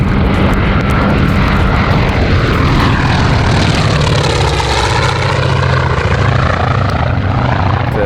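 North American T-28 trainer with a Wright R1820 nine-cylinder radial engine of about 1,425 horsepower, at a beach fly-in. A loud, steady propeller and radial-engine roar fills the whole clip, with a slowly shifting pitch as the plane passes nearby.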